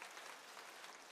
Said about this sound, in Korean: 여러분 크게 축하의 박수를 해주시기 바랍니다